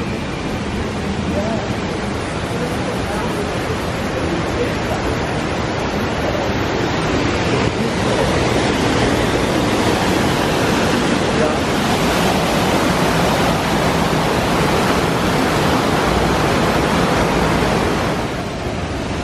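Waterfall in Pandora at Animal Kingdom, Disney World, built with a false-perspective trick to look huge, rushes in a loud, steady wash of falling water that holds unbroken throughout.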